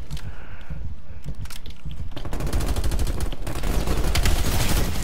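Automatic fire from the LC10 submachine gun in a Call of Duty game: sparse opening shots, then a dense, loud, rapid burst of sustained gunfire that runs unbroken to the end.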